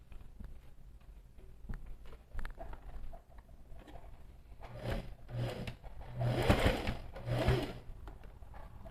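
A sewing machine runs in short bursts, stitching quilted fabric along crossing lines for a matelassê bag, with a soft mechanical patter that swells louder in the last few seconds.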